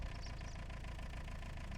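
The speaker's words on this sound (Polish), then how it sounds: "O, ciągnik jeszcze chodzi." A tractor engine idles in Farming Simulator 25, a steady, faint mid-pitched chugging hum that runs on its own without a break.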